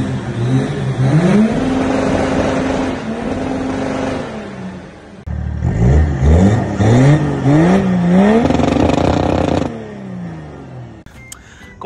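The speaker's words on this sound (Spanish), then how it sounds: "Lleva un escape entero en 3 pulgadas, de delante a atrás, que suena a auténtico avión" Modified car with a full 3-inch exhaust revving hard, loud and close, with repeated rising and falling engine sweeps, a short pause midway, then more revs before cutting off.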